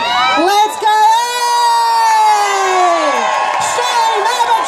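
A protest march crowd in Katoomba cheers, whoops and shouts loudly, with rising and falling yells and a few clear individual voices over the mass of noise.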